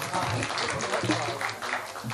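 An audience claps at a kavi sammelan (Hindi poetry gathering) in Rishikesh, with dense, continuous applause filling the whole moment as voices carry through it.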